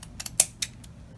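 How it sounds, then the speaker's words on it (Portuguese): Scissors snipping ribbon for a bow, a quick series of crisp close metallic snips, the loudest in the middle, with no voice. "Vou cortar aqui."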